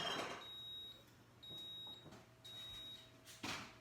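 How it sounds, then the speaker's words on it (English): A kitchen appliance beeps to signal soup is done: three long steady high tones spaced about a second apart, alone in a quiet room with faint background clatter. "So that's the beeping to let us know that it's done."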